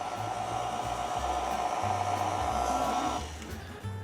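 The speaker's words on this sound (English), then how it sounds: "We're gonna mix on low for about a minute or until the dough comes together" A stand mixer runs on low speed kneading pizza dough, a steady whirring motor hum that holds evenly before dropping slightly near the end.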